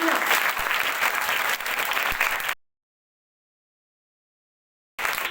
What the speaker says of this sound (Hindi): तो जोरदार तालियों का इनाम आपके मैडम और आपके सर के नाम। जोरदार तालियां।